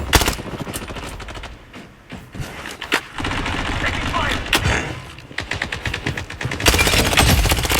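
Automatic gunfire in the shooter game Blood Strike, rapid bursts rattling loud and close in several volleys across the whole stretch, with a voice talking in between.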